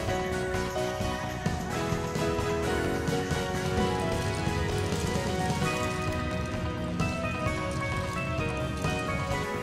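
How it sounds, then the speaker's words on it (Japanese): Steady rain pours down outdoors during a city festival parade in Kobe, a dense continuous hiss of drops hitting surfaces, loud and close throughout with no voices. "今年は途中から雨の降るあいにくのお天気でしたが"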